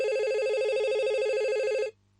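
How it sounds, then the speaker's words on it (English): Telephone ringing at an import-export company office in Los Angeles: a steady electronic ring with bright tones holds for nearly two seconds, then cuts off abruptly into silence, with no talking. "His boss, Ralph Vasquez, answered the phone."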